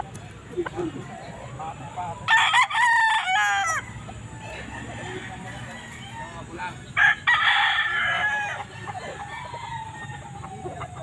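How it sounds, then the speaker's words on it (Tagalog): Roosters crow in two loud bursts among clucking chickens at a Grotto pet market tiangge, with steady crowd and market background noise between the calls. "Ayan yung mga manok"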